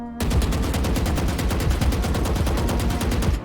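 Sustained automatic gunfire from a Vandal rifle being spray-fired in the shooter game Valorant, a fast, evenly spaced stream of loud sharp shots running without a break for over three seconds.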